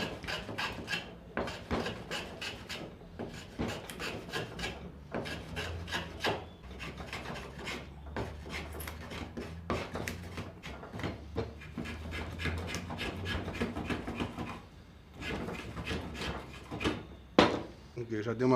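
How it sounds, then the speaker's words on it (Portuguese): A hand plane shaves wood along a chamfer on a rustic wooden drawer, making a repeated rhythmic rasping stroke, close and steady with brief pauses between passes. "removendo na plana, já no sentido do chanfro"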